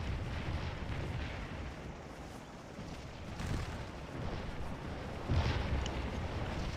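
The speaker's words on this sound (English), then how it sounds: "Stonewall Brigade troops facing too much artillery." Artillery fire in the black-powder battle game Scourge of War: repeated distant booms roll under a constant battlefield rumble, with one heavier, closer blast near the end.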